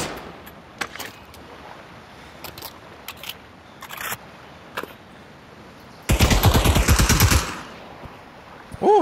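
Machine gun fire in the Pavlov VR D-Day battle: scattered distant shots and clicks first, then a loud close automatic burst of rapid rounds lasting about a second and a half, with a fresh shot at the end.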